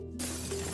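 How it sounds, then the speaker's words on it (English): Car windows are smashed and glass shatters in a film scene, a sudden loud crash that bursts in after a brief quiet moment and trails off into a ringing, scattering spray of fragments. "Sam smashes car windows and the alien bloodhounds come running."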